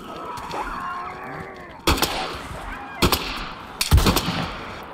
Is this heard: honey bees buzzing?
no